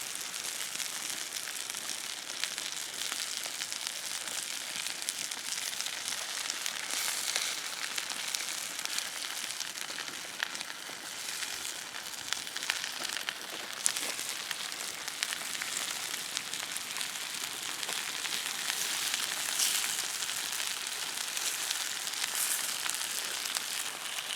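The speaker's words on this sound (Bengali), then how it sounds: "দেখুন বন্ধুরা, মাছটা কেমন করে আস্তে আস্তে ফুটছে, ভাজা হচ্ছে মাছটা এই পাতার মধ্যেই।" Bhola fish fries slowly inside a banana leaf over an open fire, giving a soft, continuous sizzle and crackle, faint and steady throughout with no voices.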